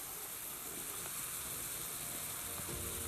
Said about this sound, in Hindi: अब हम इसको अच्छी तरह मिक्स करेंगे।